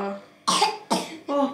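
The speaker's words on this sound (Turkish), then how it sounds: "Ah oğlum da öksürüyor." A young boy coughs three times in quick succession indoors, close and fairly loud, each cough a sharp burst.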